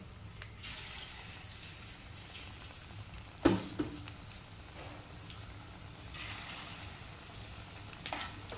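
A batter of flour, onion and mashed banana frying in hot oil gives off a steady, quiet sizzling hiss throughout, broken by a brief clatter near the middle and a slight swell of crackle later.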